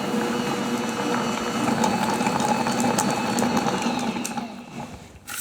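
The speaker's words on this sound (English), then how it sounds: "you can use a hand mixer to make these cookies" A hand mixer whirs steadily as it creams butter and sugar for sugar cookies, making a close, continuous mechanical buzz that fades briefly near the end.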